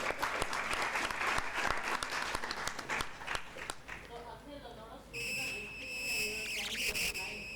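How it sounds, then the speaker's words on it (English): An audience claps in sustained applause for about four seconds, close and dense, then fades as a sustained whistling musical tone and singing begin. "Can we have a round of applause, please?"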